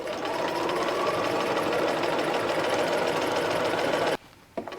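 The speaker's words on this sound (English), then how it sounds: "So I'm just going to go back over my stitch line a little bit. And now I'm going to back stitch." A sewing machine runs steadily while stitching and backstitching a hem facing on a McCall's 7862 garment, a loud continuous whir for about four seconds before stopping abruptly.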